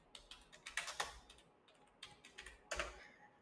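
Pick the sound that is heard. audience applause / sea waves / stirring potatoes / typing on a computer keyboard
typing on a computer keyboard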